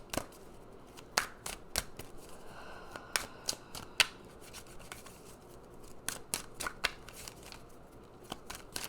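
Oracle cards being shuffled and drawn for a reading, close crisp slaps and riffling snaps scattered irregularly through the clip over a quiet background, with no talk.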